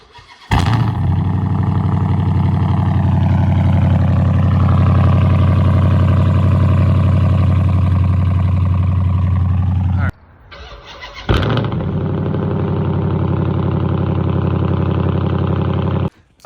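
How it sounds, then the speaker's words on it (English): A straight-piped second-generation Dodge Charger R/T cold-starts in a snow storm with a loud crack, then settles into a loud, raw idle. The engine cuts out briefly, restarts with another sharp burst and keeps idling close by. "we're about to do this cold start"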